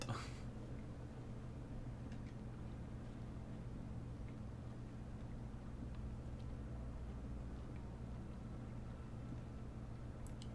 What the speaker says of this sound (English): I hear a boat. That could be our boat.